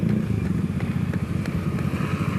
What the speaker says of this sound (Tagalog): Uy, andyan yung motor oh.